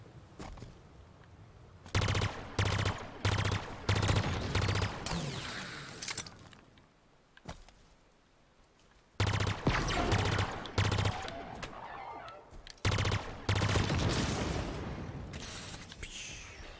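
Gunfire in the video game Halo Infinite: several bursts of rapid automatic shots at moderate level, separated by short quiet gaps, with no speech.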